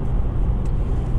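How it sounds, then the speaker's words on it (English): A 2016 Honda Civic on the road, its engine a smooth, quiet steady hum blended with low road rumble heard from inside the car, with no talking. "It's much more sprightly than a regular four-cylinder engine, and it is so smooth and quiet."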